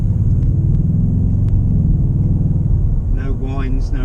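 A 4.2-litre supercharged V8 in a Jaguar S-type R with 113,000 miles rumbles deep and steady from inside the cabin on the road, with someone briefly talking near the end.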